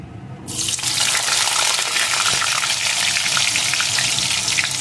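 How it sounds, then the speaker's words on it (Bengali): Chopped potato frying with whole cumin seeds and a dried red chilli in hot oil sizzles loudly and steadily after a brief quiet start, a bright constant crackle with no talking. "এখন আলুটাকে একটু ভেজে নেব"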